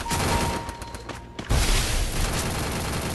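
Gunfire in the Garena Free Fire mobile game: loud, dense bursts of shots that pause briefly, then return as a heavier, booming volley.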